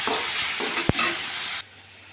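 Ingredients for a Kerala red kozhuva fish curry sauté with salt in a hot pan, giving a brief steady sizzle with one sharp knock of a utensil. The sizzle drops away abruptly near the end.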